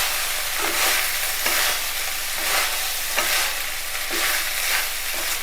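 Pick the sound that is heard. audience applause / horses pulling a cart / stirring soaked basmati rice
stirring soaked basmati rice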